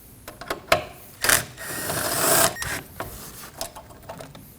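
Rapid clicking of a ratchet wrench backing out an 8mm bolt behind the coolant reservoir of a 2015-2024 Ford Edge 2.0L, in several close, crisp bursts with short pauses and a longer sustained run mid-way.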